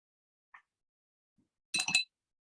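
A paintbrush clinks against a glass of water while carving and painting, with one faint tap followed by a brief, bright burst of rattling clinks.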